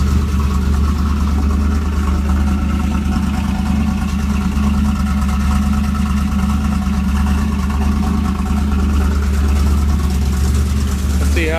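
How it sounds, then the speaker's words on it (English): An LT1 V8 with freshly replaced fuel injectors and an aftermarket cam idles steadily and a little high, a loud, even, lumpy engine drone that runs unbroken throughout, with no talk over it. "It's running smooth, a little high on the idle, but it's also got the cam in it"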